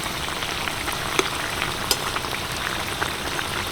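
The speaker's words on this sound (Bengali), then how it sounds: "আর এগুলো কিন্তু ভাজছি আমি একদম মিডিয়াম আছে কোনো রকম লো নয় এবং হাইও নয়" Kachori frying in hot oil on medium heat, a dense, bubbling crackle with a few sharper pops, steady and fairly loud throughout, with no talking.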